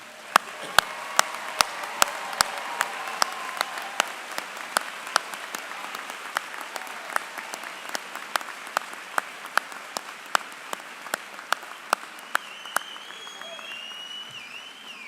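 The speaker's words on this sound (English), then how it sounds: "please stand for a well-deserved round of applause" At a university commencement ceremony in a large hall, scattered individual claps ring out sharply at first and settle into sparse, spaced claps over a soft crowd murmur, with some faint voices near the end.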